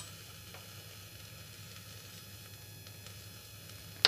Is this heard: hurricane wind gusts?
no